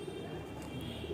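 A pet pigeon coos softly and close by in a loft, one short low burbling call with no talk over it.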